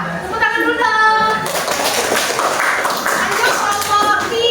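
Students in a classroom clap for a student group, the hand claps rising into a loud, busy burst, while a voice talks over the start and end.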